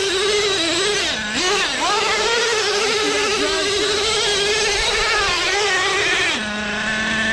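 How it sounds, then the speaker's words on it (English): A front-wheel-drive RC car does a burnout in sand: a loud, steady motor whine that wavers up and down in pitch for several seconds, then settles into a lower, even drone near the end. "Front wheel drive burnout."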